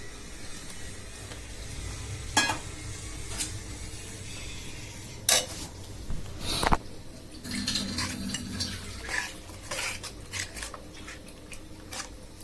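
Desi chicken pieces with bones are sautéed in spice paste, with a soft background frying hiss broken by sharp scrapes and clanks of a spatula against the pan, irregular and close.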